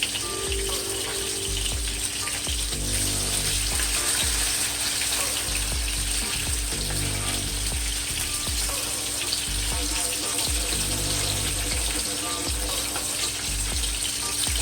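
Butterfly snapper fish frying in a pan over maximum heat gives a steady, dense sizzle and crackle that runs unbroken from start to finish at a constant loud level.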